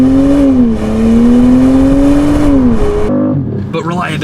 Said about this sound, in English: It also has a slightly more tinny exhaust note than the old one